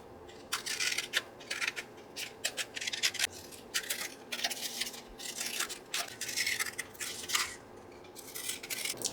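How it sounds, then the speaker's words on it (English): Scissors snip through glued playing cards being trimmed into frames for craft ephemera, a quick run of sharp cuts and crisp papery scrapes at close range, with no talking. "So I'm just going to trim out my playing cards."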